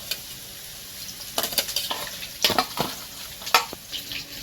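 Onion, garlic paste and green chillies frying in mustard oil, a soft sizzle under several sharp clinks and scrapes of a spoon stirring in the pan, close and fairly quiet.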